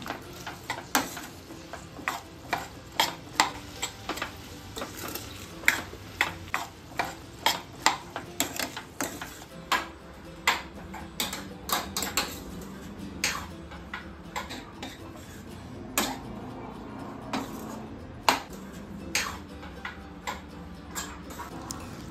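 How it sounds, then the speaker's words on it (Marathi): A spoon stirs mixed vegetables coated in spicy Malvani masala in a pan, producing repeated sharp scraping clicks in an irregular rhythm over a faint low sizzle, fairly quiet and close, with no talking. "भाजी छान मिक्स करून घ्यायची आहे"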